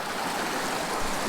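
A creek flows steadily during a tenkara fly-fishing outing, with a constant close wash of running water throughout and no talking.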